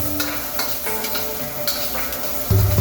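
Oil sizzles steadily in a wok while fried rice is stir-fried, a close, continuous frying hiss with light stirring scrapes and a louder surge at the end.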